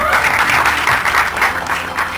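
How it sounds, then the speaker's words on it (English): Steady, dense applause from an audience at a film trailer launch event, loud and continuous throughout with a faint murmur of voices beneath. "So having got these claps, I won't want to sort of drag this further."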